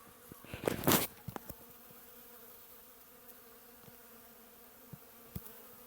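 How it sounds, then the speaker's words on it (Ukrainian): Bees working on hazelnut flowers in early March in southern Ukraine, a steady low buzzing hum with a loud close fly-by near the start and faint ticks, no talking. "Як працюють наші бджілки на фундуках. Ви подивіться, що вони витворяють. Все гудить."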